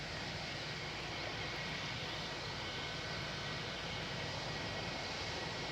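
An airliner approaching to land at Glasgow Airport gives a steady, broad engine roar that stays constant and moderately loud throughout, with no talking.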